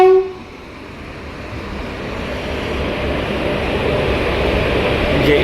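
An electric train approaches from the Rajkot side on a station line in Gujarat, a steady rising rumble that swells gradually after a brief opening tone, with a faint horn-like note near the start.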